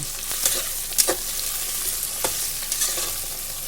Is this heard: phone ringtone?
no